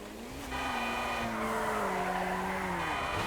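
A car races in the Grand Theft Auto V video game, its engine roaring steadily as tires squeal and skid along before it crashes into rocks, the sustained loud drone holding to the end.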